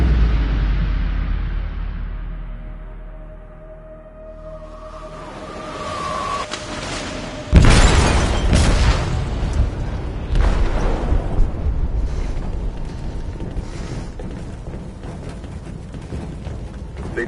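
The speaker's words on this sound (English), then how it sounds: "They detonated an explosive in the hold." An explosive detonates in a ship's hold in the Detroit: Become Human video game. After a quiet low rumble, a sudden loud blast bursts through, followed by lingering crashing and debris noise that slowly fades.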